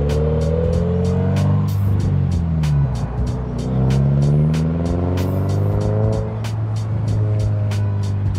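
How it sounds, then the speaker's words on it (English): A loud modified Toyota GR86 engine roars past, its revving pitch climbing and falling through gear changes, close and continuous. "I've never actually heard what my car sounds like from the outside point of view"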